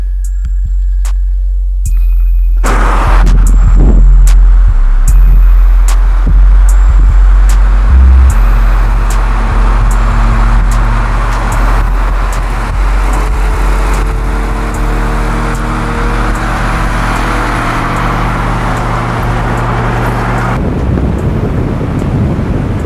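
A Honda CRX exhaust drones steadily and loud from inside the moving car, with a low engine hum, wind rush and road noise throughout and a brief rise in revs near the start.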